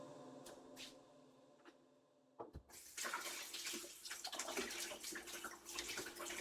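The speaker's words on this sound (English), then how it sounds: "I'm going to go ahead and rinse these off first and foremost." Water runs from a tap onto wooden skewers being rinsed, a steady splashing flow that starts abruptly after a few seconds of quiet handling noises and continues loud and close.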